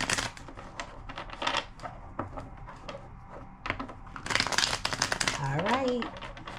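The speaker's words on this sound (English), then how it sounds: "Two more shuffles." Tarot cards are shuffled in quick rustling, riffling bursts close by, with a person talking at times between the shuffles.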